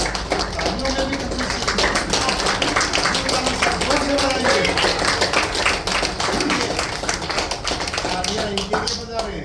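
A group clapping hands at a laughter club birthday gathering, steady rapid claps continuing throughout under a voice talking and chanting over them.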